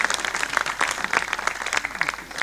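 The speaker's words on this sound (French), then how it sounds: "je vais vous demander d'applaudir très fort pour le directeur de cette école" An audience at a school event applauds the school's director, giving dense, steady clapping that fills the whole stretch with no pause.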